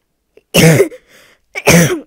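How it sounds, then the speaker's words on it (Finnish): A harsh, heavy cough sounds in two loud, separate bursts about a second apart, close to the microphone, with a short faint rustle between them. "Onpa paha yskä."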